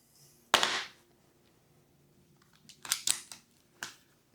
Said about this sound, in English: Take the mag out.